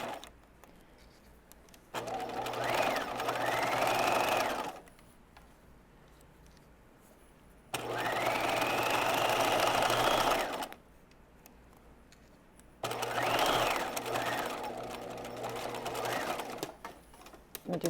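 A sewing machine stitches ponte and power mesh fabric in three steady, close runs of a few seconds each, separated by quiet pauses.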